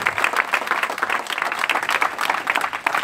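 A church congregation claps steadily in a rapid, continuous patter that is moderately loud and even throughout.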